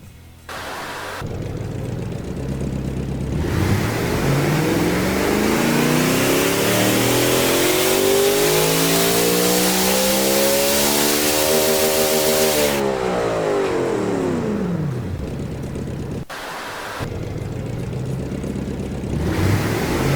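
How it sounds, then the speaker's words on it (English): A simulated car engine in the tycoon game Automation, rated at about 771 horsepower per cylinder, idles and then climbs through a long loud rev to a high pitch before falling back, followed by a return to a rough idle. "Oh wow, this engine sounds absolutely insane."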